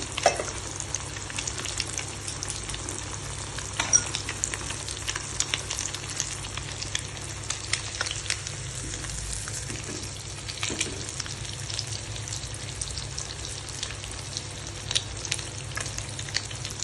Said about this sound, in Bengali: আপনারা এইভাবে প্রতিটা মাছই বিস্কিটের কোটিংটা করে ভেজে